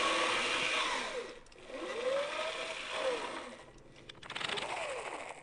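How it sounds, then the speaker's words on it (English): An old hand-cranked army generator of the kind once used to power field radios, whining up and down in pitch with each turn of the crank in repeated rising and falling sweeps, fairly loud and close with no talking. "There was a private cranking a generator to provide power for an army radio in the field."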